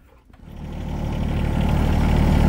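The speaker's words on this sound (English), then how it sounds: "Take a tractor ride." A tractor engine on a snowy farm starts and settles into a rumbling run, growing louder and steadier over a couple of seconds, close by with no talk.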